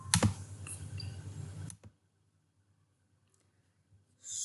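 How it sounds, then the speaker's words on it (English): Typing on a computer keyboard during a Selenium browser-automation setup, a short burst of close keystrokes and clicks lasting under two seconds, then near silence. "So let me type something here."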